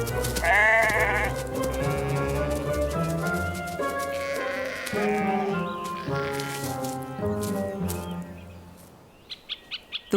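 A sheep bleats several times in an autumn orchard over a bright musical background, with short chirpy calls near the end.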